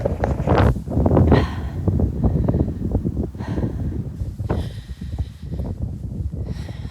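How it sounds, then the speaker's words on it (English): Strong outdoor wind gusting and buffeting the microphone, a loud continuous rumbling roar that swells and eases. "Oh my god, the wind!"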